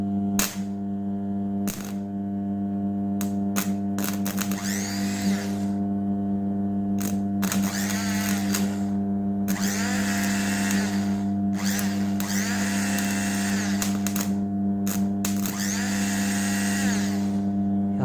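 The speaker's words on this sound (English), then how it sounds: "the supply is on and it is very high current motor" A very high-current motor powered from a transformer supply gives a loud, steady electrical hum and whine with strong tones, interrupted by repeated bursts of harsh buzzing and rattling, with no talking.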